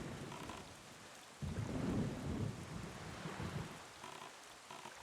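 Steady rain hisses at sea in the Wind Waker video game, with a low rumble of thunder swelling midway and then fading beneath the constant downpour.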